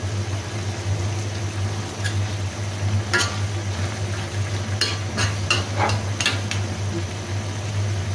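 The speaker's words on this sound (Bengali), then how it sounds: "পেঁয়াজ পুরো দিয়ে দিই।" Onions fry in a pan with a steady low sizzle while a utensil stirs them, scraping and clinking against the metal at irregular moments, close and moderately loud with no talk.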